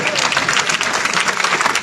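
Audience applause at a Bagheli poetry recitation, a steady dense wash of many hands clapping together, loud and continuous throughout.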